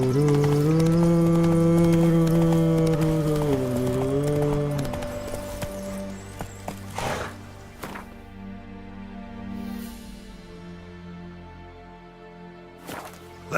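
In The Witcher 3, a horse's galloping hooves thud along under a loud sustained musical tone. The music then fades, leaving a quieter stretch with scattered hoof and movement sounds and a sudden sharp sweep at the end.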